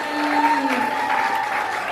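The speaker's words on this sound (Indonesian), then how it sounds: "Tepuk tangan dong buat Feby" An audience at a youth reproductive health dialogue applauds Feby in a short, two-second burst of clapping over a faint steady hum.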